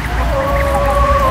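Farm ducks by a pond made from a tyre give one loud, close, drawn-out nasal call over a low background rumble.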